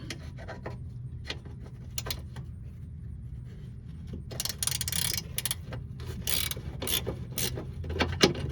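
An 18mm stubby ratchet wrench works a bolt loose on the passenger-side lower control arm of a 2004 Chevy Malibu, with a run of close metallic clicks and rubbing scrapes, the clicking growing busier and louder partway through.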